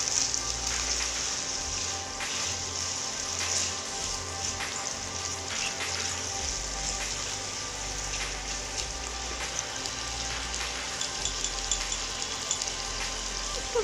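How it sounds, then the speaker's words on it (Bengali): Potatoes frying in a pan for a long beans curry: a continuous, dense sizzle and crackle like light rain, holding steady and close throughout with no speech. "আমি হালকা ব্রাউন কালার করে আলুগুলো একটু ভেজে নেব।"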